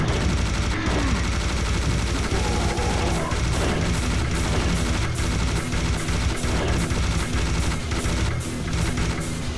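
Rapid, continuous gunfire and shotgun blasts from the video game Serious Sam HD: The First Encounter, a dense, loud, steady barrage of shots and booms filling the whole stretch without speech.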